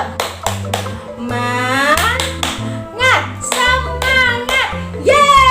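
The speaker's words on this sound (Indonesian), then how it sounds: "Sebelumnya kita tepuk semangat dulu yuk." Children clapping a rhythmic spirit clap in short bursts, mixed with a kindergarten teacher's and kids' lively chanting voices on a children's radio lesson.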